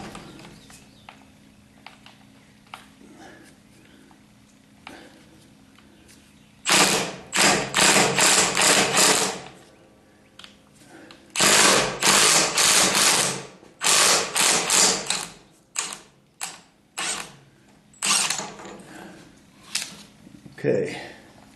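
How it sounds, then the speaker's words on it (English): A Milwaukee 3/8-inch 12-volt stubby impact wrench hammering at a nut on a hydraulic lift cylinder: several loud rattling bursts of a few seconds each, then shorter stop-start hits, close to the microphone, with someone speaking between them. "I got my 3/8 inch 12-volt Milwaukee stubby impact wrench."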